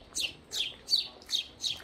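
Sparrows chirping at a seaside resort hotel in the early morning, five short bright chirps in a steady rhythm, fairly close and clear over faint background.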